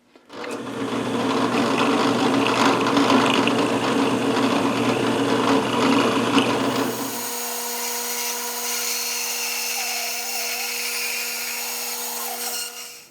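A power drill whines steadily as it bores a hole through wood, the motor pitch shifting partway through before winding down.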